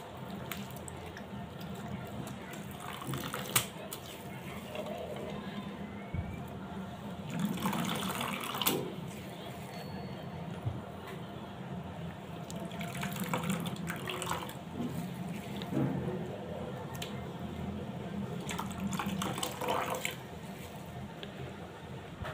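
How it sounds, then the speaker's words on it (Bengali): Papaya washed by hand under a running kitchen tap, with a steady faint stream of water, soft squishing and rubbing, and occasional drips, close by and continuous. "তো আমি একবার পেঁপেটাকে ধুয়ে নিয়েছি, তো এই যে আর একবার ধুয়ে নিচ্ছি।"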